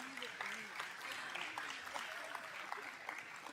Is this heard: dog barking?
no